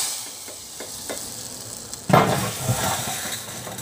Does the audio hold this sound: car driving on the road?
no